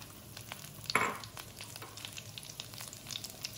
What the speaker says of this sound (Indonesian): Ini bumbunya aku tumis dulu ya sebentar